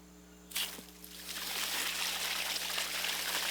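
Water suddenly gushes from the opened valve of a black-painted 300-gallon IBC tote storage tank on a hilltop, then settles into a steady, close rushing flow over a low electrical hum.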